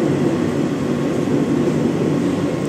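A Kolkata Metro train pulls out of Airport (Jai Hind) station, a steady, loud low rumble and rolling hum with no voices, heard from on board.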